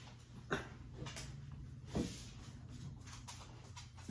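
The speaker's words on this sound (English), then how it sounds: "I'm talking to my dog, Martha." A dog indoors gives two brief, soft whimpering or yelping sounds about a second and a half apart over a quiet room hum, with no talking.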